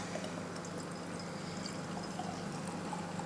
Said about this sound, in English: I'll pour some out into the glass.